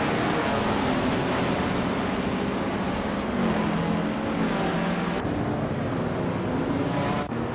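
Engines in a racing video game roar together at the race start, a dense, steady wall of loud motor noise with no pause as the cars launch off the line.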